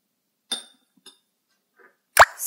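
Drops of turmeric solution fall into a soap solution with a few soft, isolated plops, followed by one brighter clink as the mixture is stirred, close and quiet against silence.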